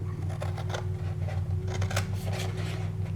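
Scissors snip through fabric while cutting out pieces for a wine bottle cover, a quick run of close, crisp cuts over a low steady hum, with no one talking.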